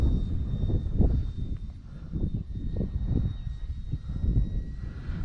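A small FT Freedom Fox V2 RC plane drones steadily overhead in gusty 15 to 20 mph wind, its thin motor whine riding over heavy rumbling wind buffeting.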